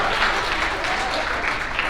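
Steady, dense applause rolls from an audience at a Mothers United gathering in Pittsburgh, a loud, even wash of clapping held throughout with no break.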